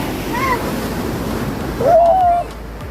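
Ocean waves at Laswitan Lagoon in Surigao del Sur wash and surge steadily with a louder rush near the end, mixed with wind noise on the microphone and a brief vocal sound.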